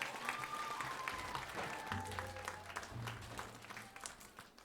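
A concert audience applauds a school choir from St. George Girls High School, with soft, even clapping heard at a distance that fades toward the end, over a faint sustained tone.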